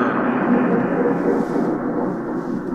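Thunder sound effect from a Halloween horror sound collection, a steady low broadband rumble that stays loud and continuous for the whole stretch with no voices over it.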